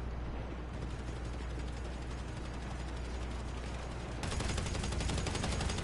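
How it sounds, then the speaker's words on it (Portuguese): Gunfire in GTA V Online, dense continuous crackling shots over a steady low rumble, growing louder and busier near the end, fairly distant and with no voices. "Os caras tudo atirando"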